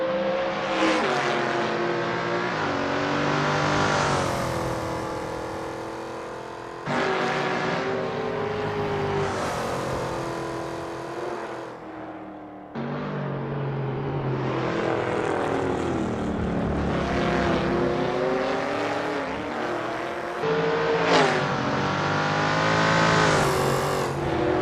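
A NASCAR stock car on a practice lap at Sonoma Raceway in Assetto Corsa roars with a loud engine that rises in pitch, cuts on shifts and lifts, then climbs again in repeated surges.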